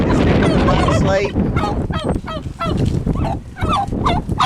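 Noisy chickens, roosters and hens crowd together, giving dense overlapping clucks and squawks, loud and close, over a constant rough background.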